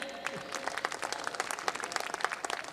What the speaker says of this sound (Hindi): थोड़ी तालियां बजाते रहिए